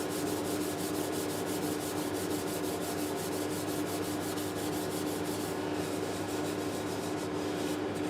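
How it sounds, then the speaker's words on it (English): Steady rubbing and scrubbing of a cloth wiping denatured alcohol across a hard surface, continuous and close, with a constant background hum underneath. "I'm going to clean that off with the denatured alcohol."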